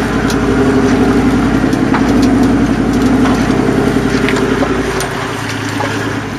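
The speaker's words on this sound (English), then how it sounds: "We've taken the van out to our test track for some low-range driving" Van towing a trailer on a 5-tonne Hitch-Ezy coupling along an off-road test track in low range, a loud steady engine drone with rhythmic mechanical churning, close and continuous, with no talking.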